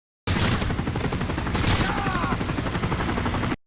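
Gunfire from the video game Call of Duty: Modern Warfare 3 in a hostage-rescue mission: dense, loud bursts of rapid shots crackle continuously, with a sharper blast partway through, no talking.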